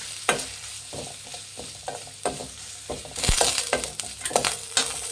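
Grated fresh coconut is stirred through a frying biryani mixture for country-style chicken biryani with hyacinth beans, a spoon scraping the pan in repeated strokes over a steady sizzle, close and clear with no talk.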